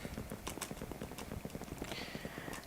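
Horse hooves clip-clopping in Minecraft, a quick, steady run of close, distinct hoofbeats with no voices.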